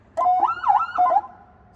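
A siren's yelp tone from a CJB 200W PA system, a fast rising-and-falling electronic wail cycling several times, loud and close, then cutting off abruptly.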